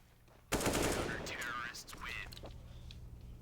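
Rapid automatic gunfire crackles in a Counter-Strike match on the Mirage map at IEM Cologne 2023, bursting in suddenly and loudly, with an excited caster's voice over it.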